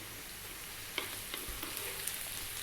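Finely chopped red onion frying in a pan for a potato and cauliflower curry, a soft steady sizzle with a few light clicks and stirs, close and fairly quiet.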